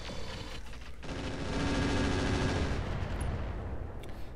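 A sustained, loud barrage of mech weapons fires in the RogueTech video game, a continuous rumbling roar of rapid gunfire with no talk over it.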